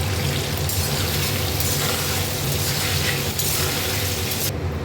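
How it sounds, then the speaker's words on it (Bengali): Potatoes frying in oil in a pan, with a steady broadband crackle and sizzle that runs unbroken and fairly loud throughout. No one speaks. "এই তেলে আলুটাও ভেজে নেব আমি।"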